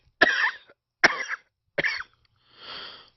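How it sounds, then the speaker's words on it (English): A man's hollow cough, three sharp separate coughs spaced about a second apart followed by a softer breathy exhale, close and alone in quiet surroundings. "checked in his utterance by that same hollow cough which would never let him alone"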